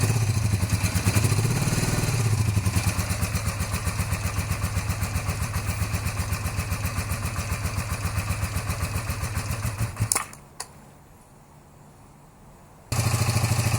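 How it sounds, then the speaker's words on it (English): Cafe racer motorcycle engine idling steadily and close by with an even, throbbing pulse; it cuts out near the ten-second mark, leaving a few seconds of quiet before the running sound returns. "I raised the idle speed so the bike doesn't just stall"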